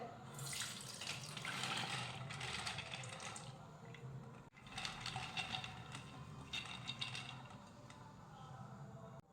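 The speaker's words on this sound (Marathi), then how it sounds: "आता ह्या डाळीतलं संपूर्ण पाणी आपण काढून घेऊयात" Water drains from soaked dal through a strainer into a container below, a steady close pouring and trickling that fades briefly midway then resumes, with no talking.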